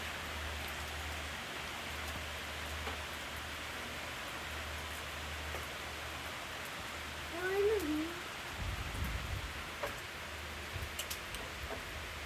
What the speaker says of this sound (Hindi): अब बड़ी अच्छी ज़बरदस्त बारिश हो रही है।